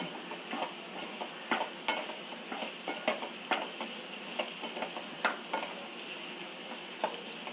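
Sweet potato pieces, about a quarter kilo, are sautéed in a pan, with regular tapping stirs of the spatula over a soft, constant sizzle, close and alone.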